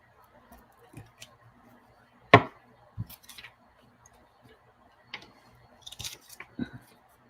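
Scissors cutting and trimming craft material up close, a handful of sharp snips and clicks spaced irregularly with quiet pauses between, no talking.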